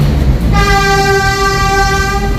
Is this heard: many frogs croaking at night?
no